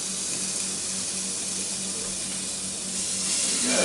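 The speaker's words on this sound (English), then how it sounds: "put these beautiful little fillets down in here, and you hear them sizzle to start with" A steady, loud hiss and crackle of steak fillets sizzling on a hot Ninja Foodi indoor grill, continuous and unbroken with no talking.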